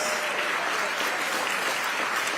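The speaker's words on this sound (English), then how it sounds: "Give another round of of applause for the 60th Mayor of the City of Aurora, Mr. John Laesch" Sustained applause from an audience for the mayor of Aurora at a State of the City address, a steady dense clatter of many hands filling the room without pause.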